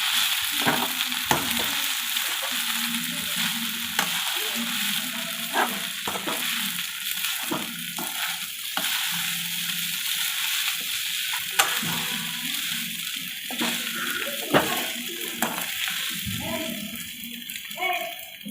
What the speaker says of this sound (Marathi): त्यानंतर शेंगदाण्याचा कूट देखील टाकूया। आता मस्त याला हलवून घेऊया।